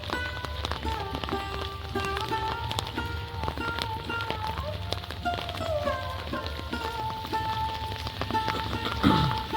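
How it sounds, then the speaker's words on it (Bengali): Heavy rain falls over open potato fields in West Bengal, with fields hazy white in the distance; a steady, dense wash of rainfall with scattered drop impacts runs throughout, with no talk. "প্রচণ্ড বৃষ্টি হচ্ছে"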